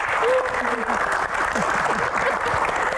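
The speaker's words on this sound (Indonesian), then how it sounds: "tepuk tangannya" An audience at a special-edition talk show claps steadily for an arriving guest, a dense patter of applause with a voice speaking over it.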